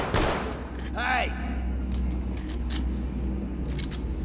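Sharp bursts of gunfire in the video game The Walking Dead: Survival Instinct crack over a steady low hum, with a swooping electronic sound mixed in.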